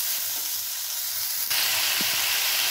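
Methi greens fry in a pan with a dense, steady hiss that jumps louder partway through after a stir, with no voices.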